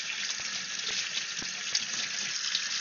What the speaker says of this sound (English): let me rinse this out real quick